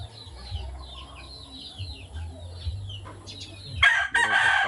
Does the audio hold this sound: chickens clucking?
yes